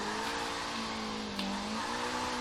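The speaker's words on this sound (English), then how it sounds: "actually we are drifting in the rain" In Forza Horizon 3, a Nissan Silvia S14 slides sideways through a wet-weather drift, engine droning steadily at high revs while a continuous tire squeal wavers in pitch, close and prominent.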